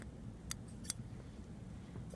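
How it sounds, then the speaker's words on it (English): Two quick, crisp snips of fabric shears trimming loose threads on a freshly sewn hot pad, close and isolated against a quiet room. "One is to trim your threads."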